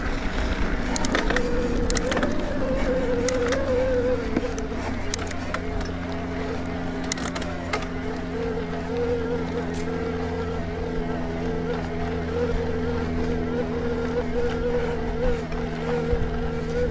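The electric motor of a Specialized Turbo Levo Comp Alloy e-mountain bike, set to turbo mode, whines steadily and loudly while climbing a trail, mixed with rolling tire noise and rattles.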